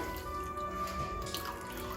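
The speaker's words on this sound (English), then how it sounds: "pour the chicken stock straight away in the strainer" Chicken stock pours through a conical strainer, a close steady trickle and drip of liquid falling into a pot, with no talk.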